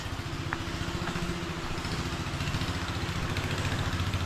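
A freshly cleaned motorcycle idles nearby with a steady, loud low-pitched engine pulse running unbroken throughout, with no talk over it.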